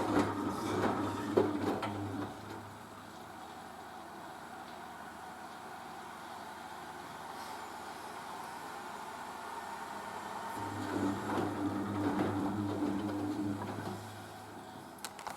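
A Merloni Electra WD1100 washer dryer drum tumbles with a low steady hum and soft rhythmic thumps, a louder grinding phase at the start and again near the end.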